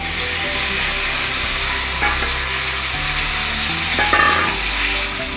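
Tomatoes added to hot oil in a pan for pudina pachadi, a steady loud sizzle and frying crackle with a few stirring knocks, no talk.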